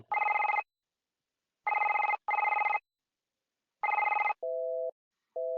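A phone rings in Doctor Who: The Lonely Assassin video game: clean electronic ring bursts in an uneven pattern, then two shorter lower-pitched tones, all clear and alone.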